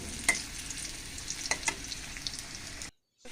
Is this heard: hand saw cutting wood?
no